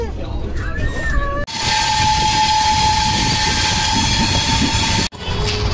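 A double decker express train on the Jaipur to Delhi route stands at a station, its steady loud rumble and a sustained tonal hum filling the clip, framed by brief gaps and some nearby talk.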